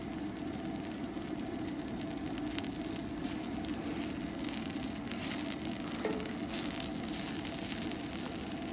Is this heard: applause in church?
no